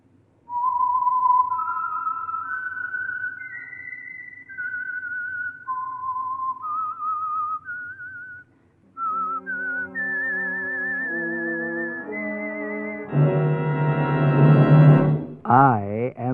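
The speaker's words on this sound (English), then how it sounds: "the signal to listen for is this whistle that identifies the Signal Oil program" The signature whistle of the radio mystery program The Whistler: a lone whistled melody rises and falls in clear, sustained notes, followed by a brassy orchestral sting with a bright, wavering flourish at the end.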